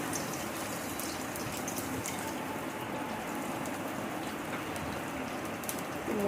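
Thick-sliced onions fry in hot oil with cardamom and cinnamon, giving a dense, even, rain-like sizzle that holds steady throughout, close by and with no voices.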